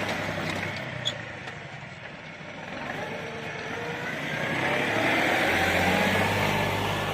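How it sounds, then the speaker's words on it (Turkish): A four-wheel-drive New Holland T4 60S tractor works a muddy field, its engine giving a continuous broad rumble that grows slightly louder and heavier toward the end. "Traktör gayet atik, hızlı, seri hızlanıyor."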